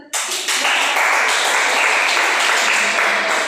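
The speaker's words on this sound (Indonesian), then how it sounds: "Kasih tepuk tangan dan" A classroom of students breaks into a burst of hand clapping during a microteaching lesson, loud, dense and sustained for several seconds after a sudden start.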